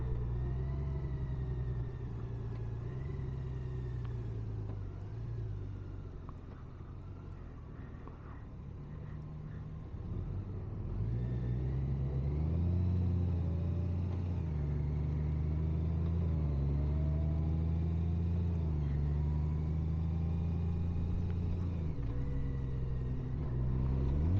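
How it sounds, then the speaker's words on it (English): Steady road traffic rumbles around a Honda Gold Wing motorcycle on a New Year's Eve ride, a continuous mid-low engine drone with shifting tones as vehicles idle and pull away, moderately quiet and unbroken. "we got traffic here."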